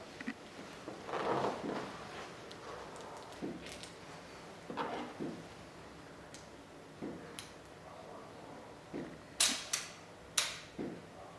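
Shutter of a Zeiss Ikon Contaflex IV film camera, a few sharp close mechanical clicks and snaps scattered over quiet room tone, the crispest ones near the end.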